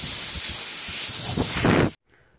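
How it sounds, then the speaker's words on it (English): A short, steady hiss of WD-40 aerosol sprayed onto an opened RC car bearing, one continuous burst of nearly two seconds that cuts off sharply into near silence. "you just give it a quick little spray."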